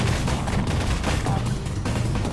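Rapid, dense gunfire in the video game Garry's Mod, a steady loud crackle of shots running without pause for a couple of seconds.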